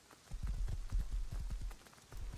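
Horse hooves clip-clopping in a rhythmic run in the survival game Rust, a quick series of moderately loud thuds, fairly near, with no talk.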